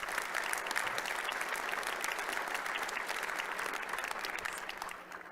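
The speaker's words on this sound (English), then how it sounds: "So can I please get another round of applause now?" An audience at an annual meeting gives volunteers a sustained round of applause, a dense continuous wash of many hands clapping that holds steady and then starts to fade at the end.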